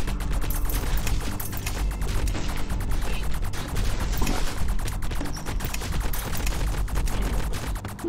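Rapid, continuous gunfire from enemies in the co-op video game Riverbond fills the stretch, dense bursts of crackling shots and impacts rattling on steadily at close range with no pause.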